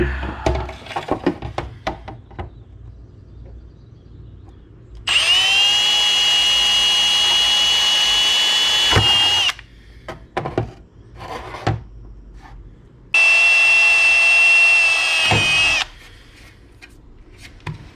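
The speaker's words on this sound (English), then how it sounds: "I'm going to drill these out" A power drill drills holes in the rear spoiler of a Cobra Daytona build, running in two long bursts of several seconds each, high and whining, separated by clattering and handling sounds.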